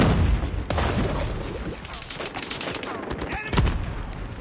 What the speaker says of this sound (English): Oh, they're shooting at it.